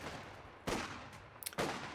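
Bursts of machine gun fire in a Company of Heroes 2 match, two sharp loud volleys about a second apart over a low battlefield rumble.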